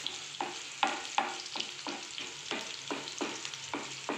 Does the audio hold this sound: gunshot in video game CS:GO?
no